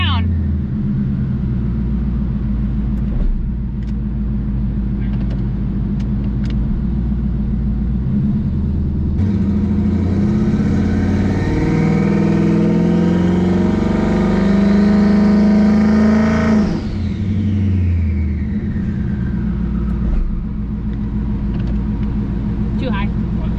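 A twin turbo Mustang engine holds revs on the two-step, a loud rumbling idle that climbs into a strained, rising roar before dropping off sharply, with people talking over parts of it.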